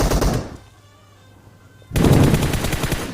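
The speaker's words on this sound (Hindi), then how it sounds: "इसका टीममेट मेरे को फायरिंग करता है" Bursts of rapid automatic gunfire from PUBG Mobile gameplay, loud and dense, drop away into a quiet lull before another heavy volley erupts near the end.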